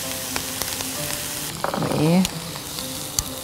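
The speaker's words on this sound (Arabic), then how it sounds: "نشوي الفراخ بتاعتنا على النواحي كلها اهو" Chicken pieces sear in a hot pan for a chicken and orzo tagine, giving a continuous close sizzle and crackle that swells briefly midway, with a brief spoken word.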